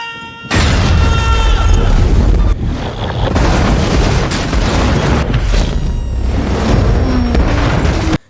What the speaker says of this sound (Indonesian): Setelah kereta menghantam tembok pembatas dan hancur, Ladybug